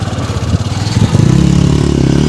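A loaded touring motorcycle on a mountain road is eased to the side to be parked, its engine loud and close, chugging in a fast rhythmic throb that swells into a steadier, heavier drone.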